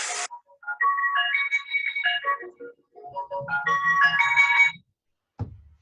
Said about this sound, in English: No, Fletcher, I enjoy your ice cream ringtones.